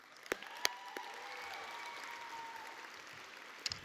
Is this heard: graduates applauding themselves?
yes